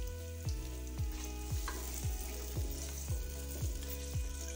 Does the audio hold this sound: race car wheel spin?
no